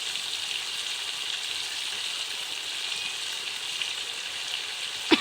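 Sugar stirred into a frying pan while cooking with spices, a steady sizzling hiss that holds evenly throughout with a faint scrape near the end, no voices.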